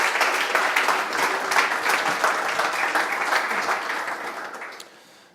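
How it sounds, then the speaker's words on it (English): Sustained audience applause at a public-sector AI meetup, dense clapping from a room full of people that holds steady and then fades out near the end. "Round of applause again for Mike, please."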